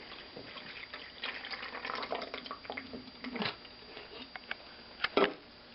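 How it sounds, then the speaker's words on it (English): Water poured out of a container holding an egg makes a steady, close splashing stream, with a few louder gushes toward the end. "pour some of that water out."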